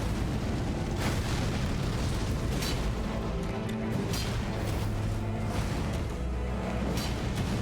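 Rumbling, booming explosions from a boss's fire attack in the Elden Ring video game, dense and sustained with repeated bursts crackling through a continuous roar.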